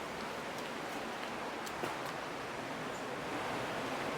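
A creek flows through a New Mexico canyon, a steady, soft rushing wash of water with faint occasional splashes, continuous and unbroken with no voices.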